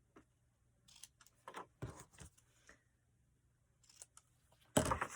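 Scissors trimming small pieces of a papercraft box, soft close snips and crinkles in scattered short bursts, faint and quiet, ending with a louder rustling handle.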